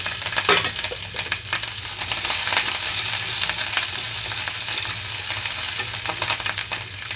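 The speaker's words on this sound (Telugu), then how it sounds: "ఆయిల్ అంతా హీట్ అయిన తర్వాత పచ్చిమిరపకాయలు కొంచెం కరివేపాకు వేసి వేయించుకుంటున్నాను" Green chillies and curry leaves fry in hot oil in a pan, producing a steady, dense sizzle with crackling pops and occasional stirring clicks throughout, close and loud, with no talking.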